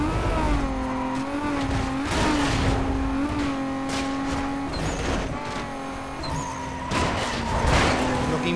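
A race car engine in Need for Speed Most Wanted, in a radar race against a Dodge Viper, roars steadily at high revs with rising and falling pitch through gear shifts, loud and continuous throughout, with faint tire noise.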